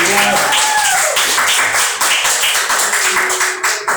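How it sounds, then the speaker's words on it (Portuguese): A church congregation applauds together during an evening family worship service, a dense, steady wash of clapping that fills the whole stretch with slight swells and no voice standing out. "Deem mais um aplauso ao"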